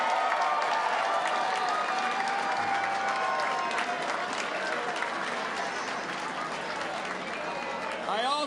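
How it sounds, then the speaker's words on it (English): Crowd applause fills a victory speech hall for Maryland's outgoing governors, a dense, steady wash of clapping with cheers mixed in and voices over it, easing slightly near the end. "Let's give them a round of applause."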